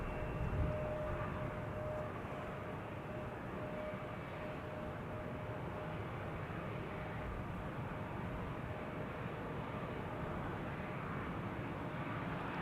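Emirates SkyCargo Boeing 777 freighter approaching Amsterdam Schiphol, a steady broad jet roar holding at moderate level throughout, fairly distant and unaccompanied by talk.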